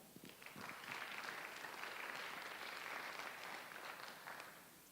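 An audience at a forum panel event gives a round of applause, a sustained wash of clapping from a room of people, heard at moderate distance and fairly soft, tapering off at the end.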